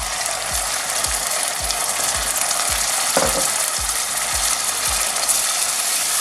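Onions dropped into a hot pan for a saucy chicken bhuna set up a loud, steady broadband frying sizzle, with a regular series of low scraping stirs about every half second and no talk.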